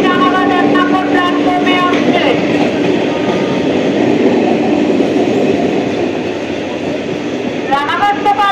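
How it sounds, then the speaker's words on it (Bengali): A Krishnanagar City–Sealdah galloping EMU local train pulls in at Ichhapur/Palta station. Its horn blasts at the start, a loud rumble and clatter of wheels follows, and another horn blast comes at the end. "এখন আসবে। তার নাম্বার হচ্ছে 31828 down Krishnanagar city Sealdah galloping local."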